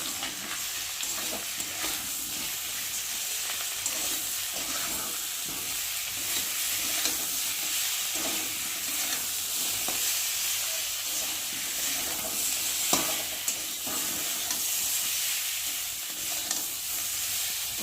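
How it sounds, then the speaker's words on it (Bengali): Spice paste with turmeric, salt and potatoes fries in a pan, giving a continuous close hissing sizzle with occasional stirring knocks, unbroken and without talk. "মশলাটাকে ভালো করে ভাজে ভাজে করে নেবো একটু আলুর সাথে"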